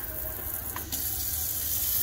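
Water runs steadily from a bar sink faucet in a Mercedes Sprinter campervan conversion, a soft continuous hiss with a small shift in flow partway through, close by and with no voices.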